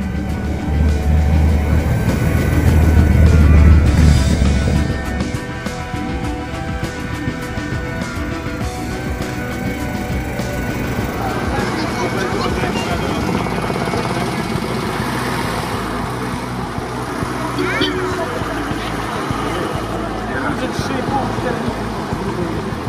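Classic vehicles moving around the grass show meadows at a vintage motor event, a steady engine rumble heavier for the first few seconds, then a continuous mid-distance drone of traffic with a voice talking over it.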